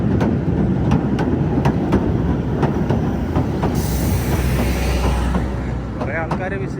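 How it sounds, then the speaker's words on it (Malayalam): The Southend Pier train runs along the pier with a loud, close rumble and rhythmic clickety-clack of wheels, rising to a brief squeal and hiss midway before settling as it passes. "ഈ train every 50 മിനിറ്റ്സിലാണ് train up and down പോകുന്നത് വരുന്നത്."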